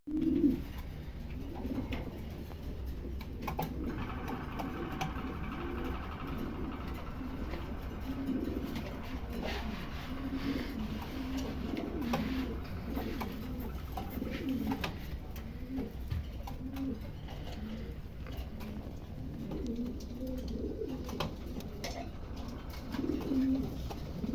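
Pomeranian pigeons coo in soft, low, repeated throbbing calls over a constant murmur of background noise, moderately close, with no speech.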